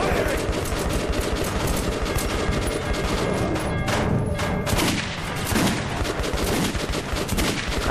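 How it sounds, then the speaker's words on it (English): Loud, dense gunfire in the PC game Metro 2033 Redux, a continuous barrage of rapid shots and blasts throughout the clip with a brief lull near the end, up close and filling the mix. "I mean, I'm shooting him, he ain't dying."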